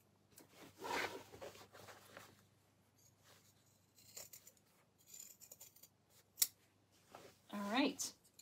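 Scissors snip and trim fabric for a drawstring backpack at close range. The cuts come in short, crisp bursts spread across the clip, against a quiet room.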